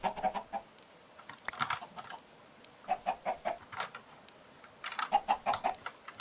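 Chickens in the video game Minecraft, a series of close, quick rhythmic clucks in short clusters with brief pauses between them, heard alone without speech.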